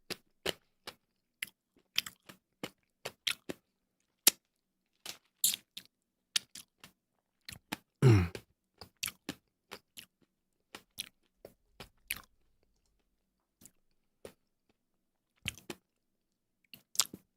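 Someone chews pickled dried radish in a quiet room, sharp crisp crunches coming in irregular bursts, loud and close, with one longer squishy bite in the middle and quiet gaps between.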